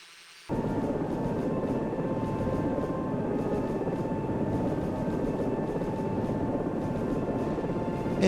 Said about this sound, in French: On apprécie notre hélicoptère.